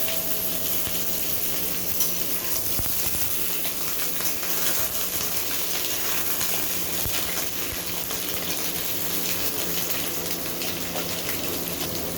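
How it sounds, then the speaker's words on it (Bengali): Pieces of pointed gourd (potol) hiss and sizzle in hot oil in a wok, a steady, dense frying noise that fills the whole stretch without pause, with no one speaking. "কড়াইতে তেল দিয়েছি, তেলটা আমার গরম হয়ে গিয়েছে। এখন পটলগুলোকে আমি লালচে করে ভেজে নেব।"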